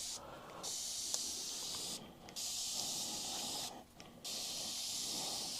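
A sprayer hisses steadily as it blasts water forcefully onto sawdust, pushing it around in a paper mill setting; the spray runs in long bursts with two short pauses, close and fairly loud.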